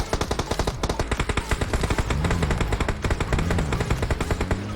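Rapid machine-gun bursts from squads fighting in PUBG Mobile rattle out in fast repeated volleys, loud and close, with a continuous stretch of overlapping fire in the middle.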